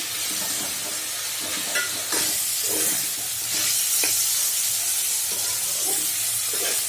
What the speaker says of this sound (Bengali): বটবটিটা পুরো কালার হওয়া পর্যন্ত আলু আর বটবটি ভেজে নেব।